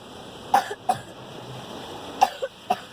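A person coughs in a few sharp bursts, two close together early on and a couple more near the end, with a brief pause between the groups, fairly close and alone without talk.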